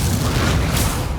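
Incendio fire spell cast in the Hogwarts Legacy video game, a loud, dense burst of roaring, booming fire sustained evenly for about a second, alone without any talk.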